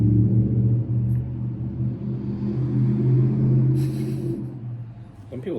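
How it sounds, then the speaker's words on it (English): A deep, loud engine rumble drones steadily nearby, a vehicle idling or rolling slowly past, with a brief hiss partway through. "Some people's cars are so loud, it's so obnoxious."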